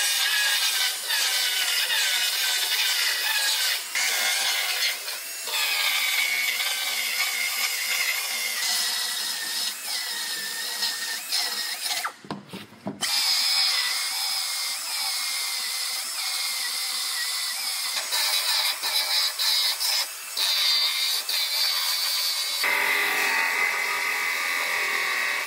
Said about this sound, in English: So I'm gonna go ahead and start cutting this outer panel off.